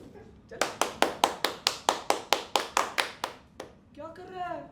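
A child claps hands at a birthday scene in a stage play: about a dozen sharp, evenly spaced claps, close and loud, followed by a short pause, one more clap and then a voice speaking.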